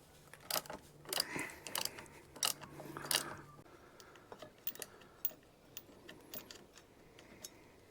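A 13 mm socket loosens the securing nut on a Mercury outboard water pump during an impeller replacement, giving quiet, scattered ratchet clicks in short bursts that thin out to faint ticks.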